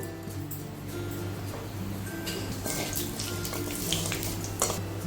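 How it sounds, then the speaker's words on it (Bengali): Cumin seeds temper in hot oil in a pan for a Bengali aar fish curry, giving a continuous close hiss with scattered light crackles and a faint low hum underneath. "এখন আমরা ওই তেলে দিয়ে দিলাম জিরা ফোড়ন"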